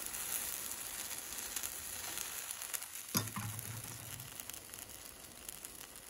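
A keto chocolate chip pancake topped with blueberries fries in a pan, a steady soft sizzle running throughout with a brief clatter near the middle as it is turned over, no talking.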